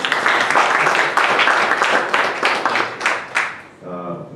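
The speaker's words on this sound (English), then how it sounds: "a round of applause for" Panel discussion audience breaking into applause, a loud dense wash of clapping that thins and fades near the end as a voice begins speaking.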